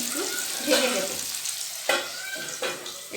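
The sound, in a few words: stirring potatoes with salt in a frying pan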